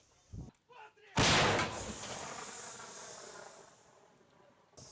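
A single heavy blast from a self-propelled howitzer, loud and close, followed by a long rolling echo that fades out; faint voices come just before the shot.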